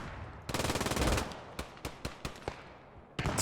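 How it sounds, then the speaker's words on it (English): An MG42 machine gun fires in the Post Scriptum video game during a large realism battle, a fast ripping burst followed by several single sharp shots and another short burst, fairly close. "MG42 in hand."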